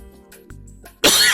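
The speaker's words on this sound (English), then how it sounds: "sorry for the coughing." A single harsh cough bursts out loudly near the end, preceded by quiet background hum and faint throat sounds.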